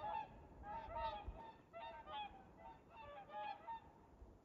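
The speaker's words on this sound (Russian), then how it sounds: "Гуси-лебеди." A flock of geese flying over a pond in a former German village, honking in repeated clustered bursts at a moderate distance with quiet outdoor background between calls.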